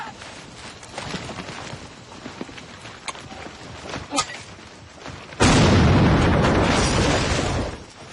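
A grenade explodes in a war film about General Sudirman: a sudden loud blast with a roaring, debris-filled tail lasting about two seconds, after a busy stretch of hoof-like clatter and scattered knocks.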